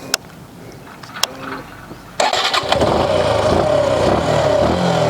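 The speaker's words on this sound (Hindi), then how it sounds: "तो करते हैं बाइक को स्टार्ट" A Suzuki Gixxer SF BS6 motorcycle engine cranks and catches, then settles into a steady, loud idle that continues to the end.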